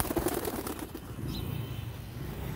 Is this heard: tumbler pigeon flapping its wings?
yes